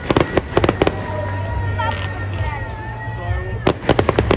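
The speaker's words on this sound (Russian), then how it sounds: "Заключительным аккордом прекрасного вечера стал красочный фейерверк." Fireworks at an outdoor anniversary celebration for a city district, with sharp bursts and crackles at the start and end and whistling rising trails in between, while people talk and cheer in the background.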